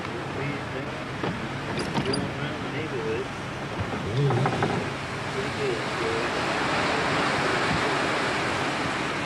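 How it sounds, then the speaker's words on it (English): Strong wind gusts before Hurricane Andrew in Fort Lauderdale, 1992, roar and buffet steadily over a broad rushing noise, swelling louder toward the end, with faint voices briefly audible beneath. "that was a pretty good gust of wind"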